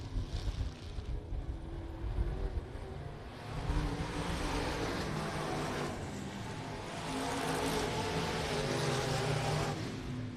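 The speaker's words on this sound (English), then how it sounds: "You can hear the tires squealing." Race cars circle a dry, slick dirt track at a raceway, engines roaring and droning continuously at moderate distance, with the noise swelling and fading as the cars pass.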